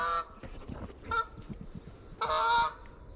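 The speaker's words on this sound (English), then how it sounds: "Geese." Geese honking: a few loud, nasal honks from fairly close by, spaced over about three seconds, with quieter calls and bird chatter between them.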